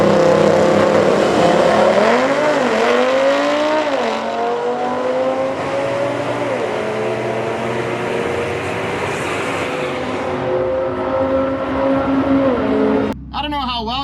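Boosted street cars, including a heavily built muscle car, racing side by side at dusk, with a loud, sustained engine roar rising and shifting through gears for many seconds, close and dominant, ending in an abrupt change.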